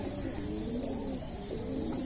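Pigeons from a flock of about two hundred kept by a student coo softly and repeatedly nearby, low throaty calls overlapping with faint chirps in a quiet loft.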